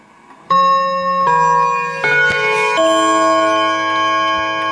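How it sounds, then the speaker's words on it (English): A German Napoleon hat mantle clock with an anvil-made Baden movement strikes its Westminster quarter-past chime: four clear, ringing rod notes in sequence, each sustaining into the next, loud and close. "is the chime for 1/4 past."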